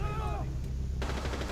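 Gunfire in Rainbow Six Siege, a team deathmatch bomb round on the Consulate map: a steady spray of close shots with a sharp burst near the end, mixed with game noise.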